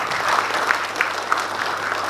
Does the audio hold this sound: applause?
yes